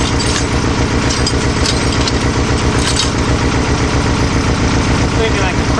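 A Type-3 engine with dual carburetors runs steadily with the throttle bodies opened slightly to raise the RPMs, a loud close continuous throb with even pulsing and no break.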